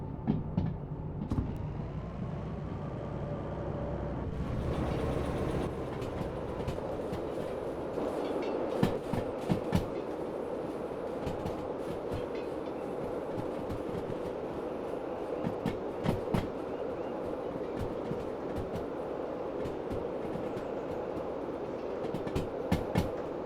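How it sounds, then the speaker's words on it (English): A train passes in the Derail Valley railway simulation game, a steady rolling rumble with repeated clickety-clack wheel beats from the wagons going by, close and continuous with no talking. "there's the train"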